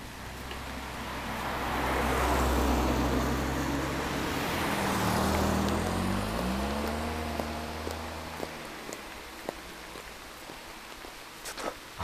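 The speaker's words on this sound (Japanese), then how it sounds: "ちょっと雨足強すぎ。" Heavy rain pours down during a bicycle trip over Mugikusa Pass, a steady broadband hiss that swells through the first half while a motor vehicle rumbles past nearby, then thins out toward the end.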